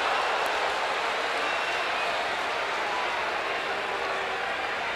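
Sustained crowd applause and cheering from the LSU fans at a College World Series championship baseball game, a dense, steady roar filling the stadium with no break.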